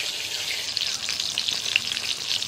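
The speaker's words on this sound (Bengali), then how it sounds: "বেগুন ভাজা হয়ে যাওয়ার পর আমার কুমড়োটা ভেজে নিলাম।" Pumpkin pieces frying in hot oil in a home kitchen, a continuous bright sizzle with small crackling pops, close and steady throughout, no talking.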